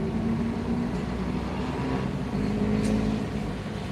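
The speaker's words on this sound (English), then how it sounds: "Let's just chill here and listen to the traffic and watch the scenery" Street traffic hums with a steady, dense roar of passing cars and engines, continuous and moderately near, with a faint hint of one vehicle accelerating midway through.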